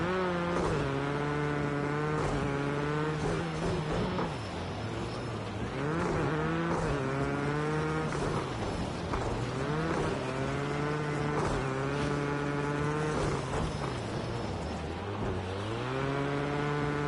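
A rally car engine races in the Rally Fighters video game during the Race of Germany finals, a loud continuous roar rising and falling in pitch with repeated revs and gear shifts.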